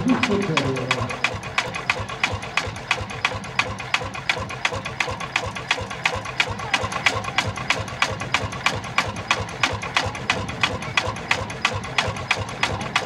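A vintage water-cooled tractor engine running at a steady idle, with evenly spaced, rapid thumping beats continuing throughout, with some talking over it.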